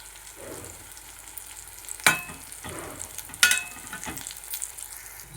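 A spatula scrapes and tosses raw banana stir-fry, aratikaya dullu, in a pan, with two sharp clanks over soft sizzling and rustling stirring, no voices.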